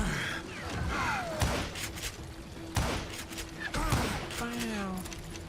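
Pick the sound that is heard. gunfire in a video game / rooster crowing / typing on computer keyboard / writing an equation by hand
gunfire in a video game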